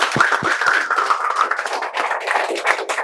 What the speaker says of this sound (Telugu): మేమందరం కలిసి చప్పట్లతో